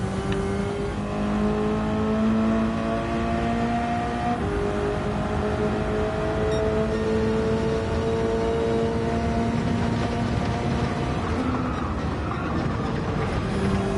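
A race car engine in Gran Turismo at Dragon Trail Gardens pulls hard through the gears, its rising whine climbing and dropping at each shift, loud and continuous for the whole stretch with no talk over it.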